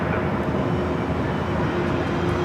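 A broad, steady jet roar from a Boeing 767 at LAX airport, with a constant rumbling wash and no distinct onset, heard from a distance.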